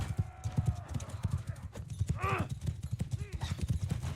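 Battle cavalry in Mount & Blade 2: Bannerlord, with a dense, rapid clatter of many horse hooves galloping up close, a horse whinnying in the middle, and voices shouting over the din.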